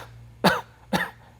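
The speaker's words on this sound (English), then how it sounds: "So I'm going to pretend to cough." A person demonstrates two deliberate pretend coughs for a back-strengthening exercise, each a short sharp burst about half a second apart, close and clear against a quiet room.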